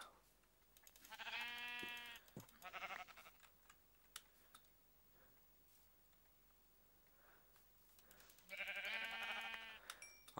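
Sheep in the Minecraft video game give two bursts of harmonic bleating, one near the start and another at the end, loud and close, with faint clicks and quiet gaps between them.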